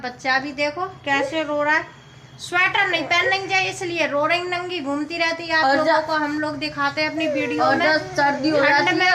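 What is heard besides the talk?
No everyday noise stands out behind the speech.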